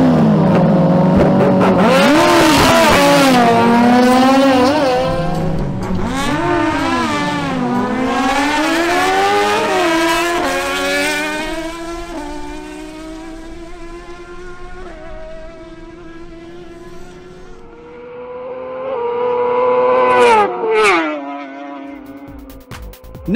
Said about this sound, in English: Now we have a showdown between Nelson Camacho on his Honda CBR1000RR and Steven Rivera on his Suzuki GSX-R1000.